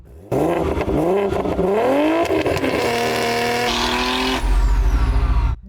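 A Turkish-built supercar engine revs loudly and close, its pitch sweeping up and down through several climbs before settling into a high steady drone, with a deeper, louder roar surging in near the end.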